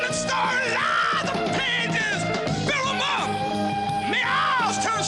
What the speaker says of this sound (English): The scream as the Phantom awakens to discover the wall upsets Beef